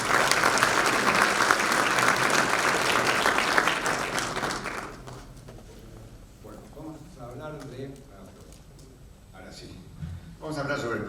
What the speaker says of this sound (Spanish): Lo recibimos con un aplauso también, Eduardo Ballesteros.